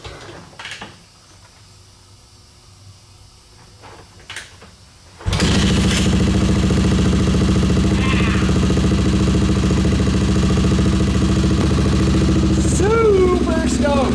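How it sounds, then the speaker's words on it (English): An XR650R dirt bike's engine catches abruptly after a quiet stretch, then runs steadily at a loud, close idle with a rough, thumping drone and a couple of brief rising revs near the end. "Bike fire's right up."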